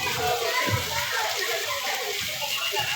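Steady rain hisses and patters outdoors in Sacapulas, Quiché, Guatemala, as a dense wash that stays close and constant. Faint voices sit underneath it.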